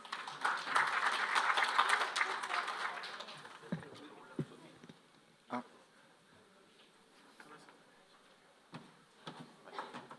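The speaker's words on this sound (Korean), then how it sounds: "뜨거운 박수 부탁드리겠습니다" Audience applause at a National Assembly public hearing in Korea on an education development special zone law, a loud burst of clapping for the first few seconds that fades into scattered claps and room noise.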